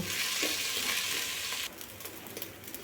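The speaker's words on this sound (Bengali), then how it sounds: "এবারে আমি এই চালটাকে একটুখানি ভেজে নেব" Rice sizzles and crackles steadily in a hot pan while being fried for prawn pulao, then the hiss drops and gives way to lighter scattered crackles as it settles.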